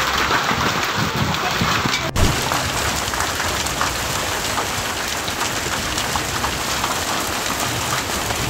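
Unseasonal rain and hail pour down in a steady, dense, loud hiss with a single sharp crack partway through, and faint voices sit under the downpour.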